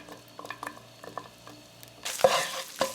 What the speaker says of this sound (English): I'm just gonna give it a few minutes until the chorizo is cooked through and the onions are slightly tender.